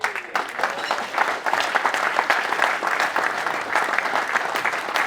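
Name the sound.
audience applause at a football club Q&A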